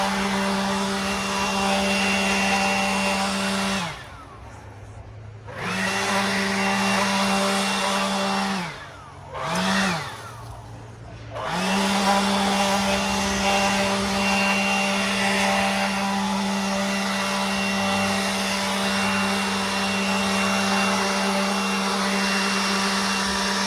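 A loud, steady roar from a leaf blower clearing a pool deck, running continuously with two brief dips where it cuts out, then carrying on unbroken.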